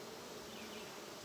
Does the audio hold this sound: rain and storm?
no